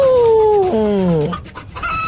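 A cartoon rooster lets out one loud, close crow that bends downward, followed by a few short trailing squawks.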